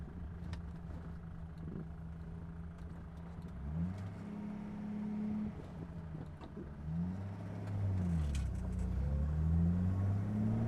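A warmed-up straight-six engine in a Datsun ZG idles with a smooth, low steady hum, its tone shifting slightly with a couple of gentle revs toward the end.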